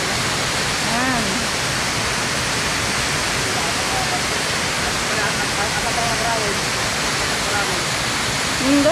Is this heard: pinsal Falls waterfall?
yes